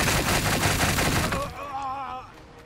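Units in Gladius Relics of War, a Tyranids game, open fire in a loud, dense volley of gunshots lasting about a second and a half, then it fades into softer, ringing tones.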